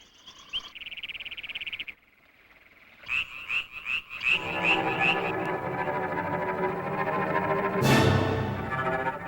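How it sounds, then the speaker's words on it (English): Adult amphibians croak to attract mates, first in rapid trilled bursts and then as a dense, loud chorus of many overlapping callers, with one sharp burst near the end. "They are the urgent calls of adults seeking a mate. One croak can carry well over half a mile"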